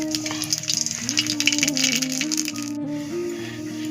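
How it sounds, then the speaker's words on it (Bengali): Black cumin (nigella seeds) hits hot oil in a pan, giving a loud burst of crackling, rattling sizzle that gradually settles, with music playing underneath. "সর্ষে পাতা রান্না করার জন্য প্রথমে দিয়ে দেবো কালো জিরে"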